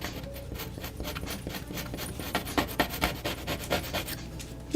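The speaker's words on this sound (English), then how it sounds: "Crazy dogs." Excited dogs panting quickly in short rhythmic bursts close by, with rustling and paw movement around them, growing a little louder toward the end.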